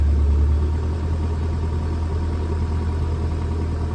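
Steady hum of a boat engine running at raised revs on the Norfolk Broads, a constant low drone close by with no breaks and no talk over it.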